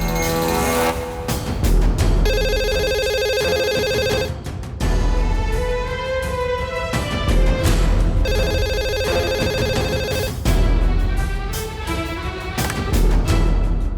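A landline telephone rings in two long, repeated bursts over loud dramatic background music in a tense crime-drama scene.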